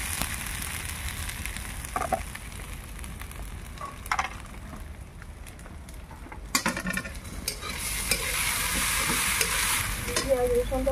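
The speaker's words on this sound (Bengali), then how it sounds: "কপি ভাজি দিয়ে যে তেলটা আমি এখানে দিলাম খুব জোরে জ্বলছে" Cauliflower frying in hot oil over a wood-fired stove, a steady close sizzle broken by scraping stirs and clinks of the spatula, growing louder toward the end.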